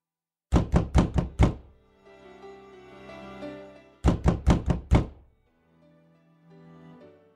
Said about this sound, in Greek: Σαν ήκουσε αυτή τσι χτύπου στην πόρτα